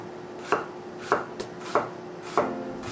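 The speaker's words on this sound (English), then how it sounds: "Now I'm going to slice up an onion" A knife slices through an onion on a cutting board, four sharp, evenly spaced cuts landing about every 0.6 seconds, close and clear against a quiet kitchen with a faint steady hum.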